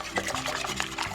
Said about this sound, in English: mix the eggs with the milk